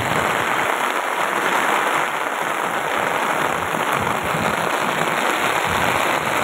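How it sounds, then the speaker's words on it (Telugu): Heavy monsoon rain pouring down outdoors: a loud, dense, continuous hiss of drops striking surfaces, steady and unbroken throughout, with no voices. "వర్షాకాలం వచ్చిన తర్వాత ఫస్ట్ అండి ఇంత వర్షం రావడం మా దగ్గర"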